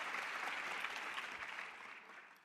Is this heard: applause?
yes